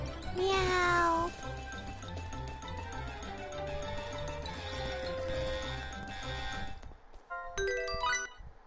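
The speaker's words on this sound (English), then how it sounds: "Meow! Meow." Cat meowing in the video game Star Ocean: The Last Hope, a loud high meow that slides downward at the start, then softer sustained game tones and another short bright meow near the end.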